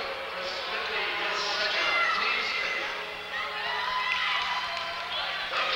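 Crowd noise from fans at a 1989 New Brunswick provincial AA high school basketball final, St. Stephen Spartans against Tantramar Titans, a steady broadband roar of cheering and shouting that swells and dips over several seconds.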